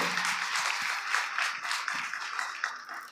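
An audience at a church sermon clapping loudly, dense sustained applause from many hands, steady and close throughout.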